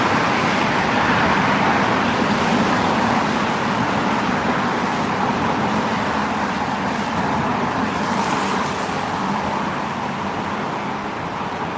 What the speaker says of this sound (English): cars going through make it really loud too